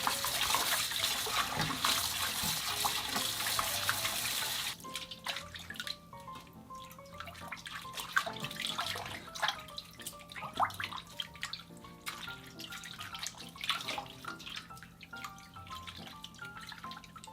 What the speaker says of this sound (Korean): 봄동에 붙어 있는 흙을 비벼가며 찬물에 3번 정도 깨끗하게 씻어주세요.